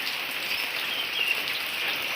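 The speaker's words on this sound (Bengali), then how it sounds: "তো চলো বাইরে বৃষ্টি পড়ছে" Rain falls steadily outside, making a continuous, even hiss of drops on surfaces, with a faint bird chirp barely showing through the wash.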